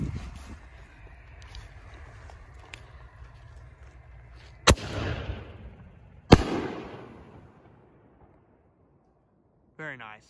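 An orange peony firework launched from a mortar tube goes off with two sharp, loud booms a couple of seconds apart, each trailing into a rumbling echo outdoors, before quiet settles in and a voice speaks at the end.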